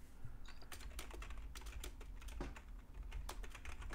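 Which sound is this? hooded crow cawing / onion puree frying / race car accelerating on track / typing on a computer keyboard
typing on a computer keyboard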